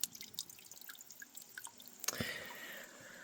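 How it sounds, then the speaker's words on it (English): Water dripping off a leaf at a rock spring along a Virginia trail, several distinct single drips falling at irregular intervals, then a steadier trickle sets in, close and fairly quiet with no talk. "this drip is going to work great for us"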